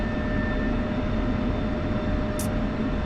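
F-16 jet engine roaring during takeoff in the DCS flight simulator, a steady, loud, broadband rumble and whine with no talking.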